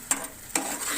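Yogurt is stirred into a sizzling curry, with two quick spoon scrapes against the pan over a soft continuous frying hiss.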